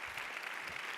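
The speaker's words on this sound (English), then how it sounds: "can you clap anybody who's in school at the moment?" An audience at a talk claps briefly, a soft, even patter of many hands heard faintly from a distance for about a second.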